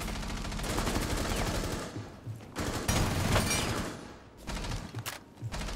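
Rapid gunfire in the video game Rainbow Six Siege, dense bursts of automatic shots in several clusters with brief gaps between them, loud and close.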